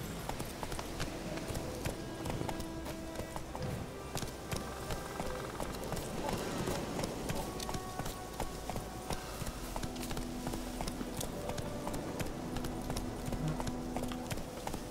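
Galloping horse hooves in The Witcher 3 video game, a steady fast clip-clop running throughout under rumbling ambient game sound and faint distant sounds.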